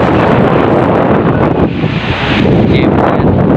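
Strong wind at Bonifacio Global City (BGC) roars loudly across the microphone in constant heavy gusts, dipping briefly midway before surging again.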